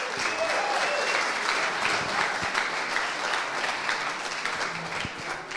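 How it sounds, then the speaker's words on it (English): A business awards evening audience applauds a speaker with a dense, steady wash of clapping hands, sustained and even throughout, with a few voices murmuring underneath. "Big round of applause,"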